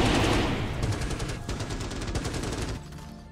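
Combat gunfire in the strategy game Starship Troopers: Terran Command, with a dense, continuous clatter of rapid automatic fire rattling through the whole stretch and a heavy, loud burst at the start, no voices.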